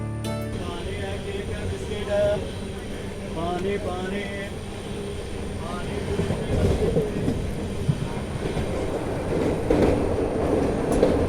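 The Banaras–Sealdah Amrit Bharat Express runs on the rails with a steady rumble, clattering wheels and a faint squeal, close and sustained throughout.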